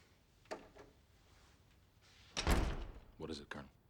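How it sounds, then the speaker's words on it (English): A door shuts in an office with a brief thud partway through, set among other short knocks and movement sounds close by, with a voice briefly at the end. "Close the door."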